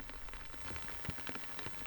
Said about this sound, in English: And then it starts to rain.